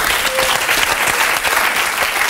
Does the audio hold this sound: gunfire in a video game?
no